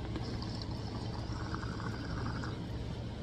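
A freshly cleaned 6-inch clear glass water rig gets a dry hit, giving steady, close bubbling and gurgling of water through the chamber that runs continuously for a few seconds with no voices.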